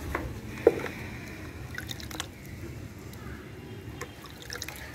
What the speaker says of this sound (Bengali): এবার একটু জল দেওয়ার অপেক্ষা, জল তো রেডি করাই আছে